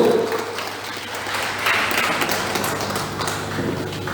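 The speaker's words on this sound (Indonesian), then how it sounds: "berikan aplaus yang sangat luar biasa sekali lagi buat Bapak Diwan" An audience at a corporate event in Indonesia claps in steady, sustained applause, a dense close wash of hands that carries on throughout.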